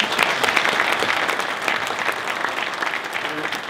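An audience applauds at an award ceremony, a lively, dense clatter of many hands close by and loud, with a few voices mixed in under the clapping.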